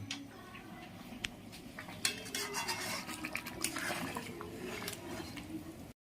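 Chicken being cooked in a pot at a family picnic, with steady clinking of utensils against the pot and soft stirring and liquid sounds over continuous outdoor background noise.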